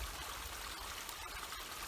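Creek water flows in a snowy winter forest, a soft continuous rush and trickle, faint and steady with no voices.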